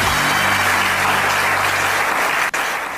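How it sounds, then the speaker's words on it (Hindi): A studio audience claps loudly and steadily for about three seconds, a dense wash of applause that dips briefly just before it ends. "चलो अब आप लोग ताली मारो।"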